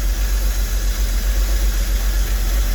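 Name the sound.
2003 Porsche Boxster engine idling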